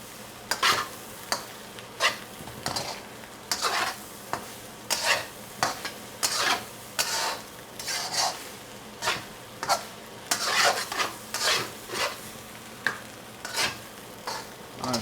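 Rhythmic scraping and tossing of Peruvian fried rice with green onion tops in a hot pan, a close run of repeated spatula strokes over a soft sizzle, continuing steadily for about fifteen seconds.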